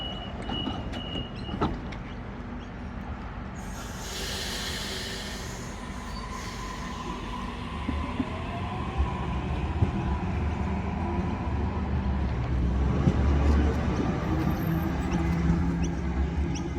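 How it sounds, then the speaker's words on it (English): A Waratah B-set electric train departing Regents Park station in Sydney, a steady mid-distance rolling rumble that builds and grows louder through the second half, with brief clanks and a passing hiss. "Waratah B7 on a City Circle via Bankstown service departing Regent's Park Station."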